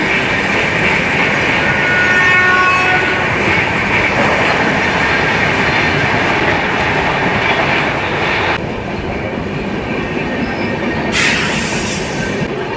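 Swarna Jayanti Express train running fast on the rails between stations, heard from onboard as a loud, steady rumble with rhythmic wheel clatter and squealing, a brief brighter hiss rising near the end.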